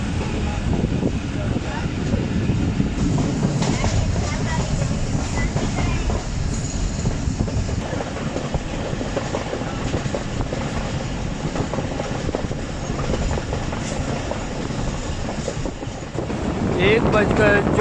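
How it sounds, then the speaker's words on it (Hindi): Thal Express train pulling into Pai Khel railway station in Pakistan, a steady loud rumble of rolling wagons and rail noise throughout, with a brief squeal near the end as it slows. "थाल एक्सप्रेस अब पड़ाव डाल रही है पाई खेल रेलवे स्टेशन पर"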